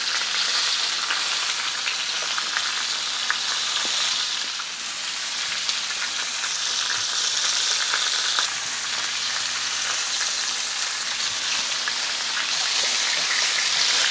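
Meat sizzles hard and continuously in a cast iron pan, a loud, close crackling hiss that carries on without a break and with no voices.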